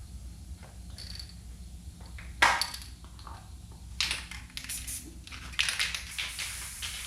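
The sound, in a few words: aerosol spray paint spraying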